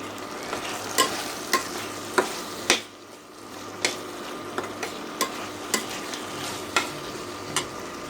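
Dried fish shutki bhuna is stir-fried in a pan over a gas flame, a steady low sizzle broken by regular sharp spatula knocks and scrapes roughly every second, close and clear with no talk.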